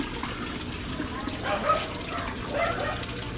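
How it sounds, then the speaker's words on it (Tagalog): A Resun aerator pump runs steadily in a koi fish pond. It makes a constant bubbling, trickling wash of water that swells slightly twice, with faint background noise and possible voices. "ang filtration, ang aerator pump natin"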